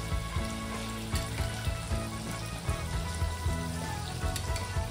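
Ginger, chili and garlic paste hitting hot oil in a frying pan for fish curry, a dense continuous sizzle heard up close and fairly loud, with brief bubbling bursts throughout.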